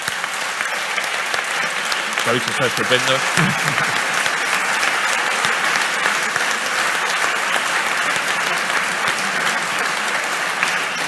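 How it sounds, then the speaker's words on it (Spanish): Audience applause following a panel discussion, a broad sustained wash of clapping that fills the room from start to finish, with a brief spoken phrase near the start riding over it. "Muy bien, pues pido un aplauso para ellos."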